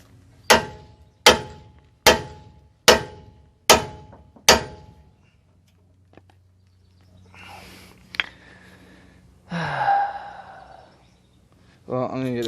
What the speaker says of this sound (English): Let's keep hammering on this